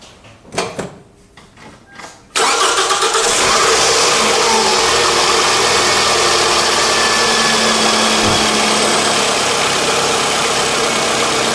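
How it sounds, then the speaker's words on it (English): A Toyota 2AZ-FE car engine cranks briefly, catches and starts, then settles into a steady, loud idle that continues to the end. "next I start this my engine"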